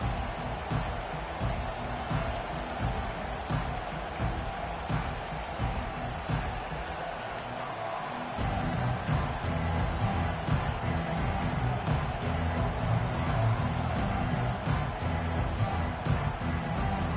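Steady stadium crowd roar at a college football video game, a broad wash of cheering that swells louder partway through, with commentary voices over it.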